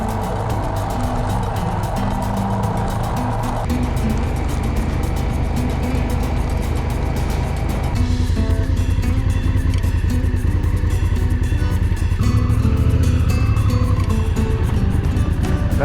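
Motorcycles ride a dirt road in Baja near Laguna Chapala with a loud, steady engine drone and shifting revs, close and continuous under rushing wind and road rumble.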